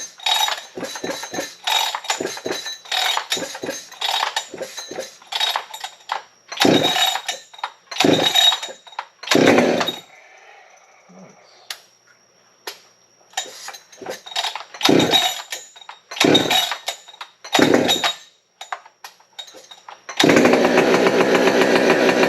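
A big bore 572 chainsaw engine sputters through a series of short bursts after priming and choking, then catches and settles into a loud, steady running roar near the end.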